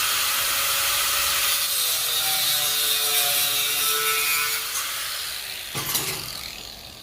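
A power cutter slices through a metal piece for a cyclekart build, making a steady, loud, hissing grind close up that eases off near the end and finishes with a sharp clank.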